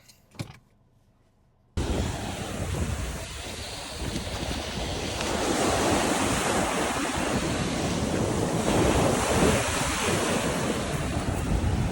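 Ocean surf on a beach while someone runs along the shore: after a brief quiet start, loud, continuous wash of waves mixed with heavy wind buffeting on the microphone, with no talking.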